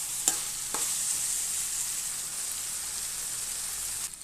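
Brinjal frying in oil for kuzhambu makes a steady, close sizzle, broken by a few sharp clinks of a stirring spoon against the pan near the start and end, with no voices.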